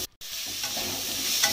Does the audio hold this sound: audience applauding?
no